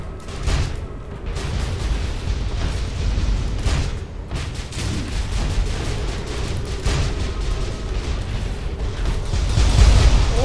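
Airstrike explosions in the video game Tribes Ascend, a steady barrage of booms and bursts over constant loud battle rumble, growing heavier toward the end.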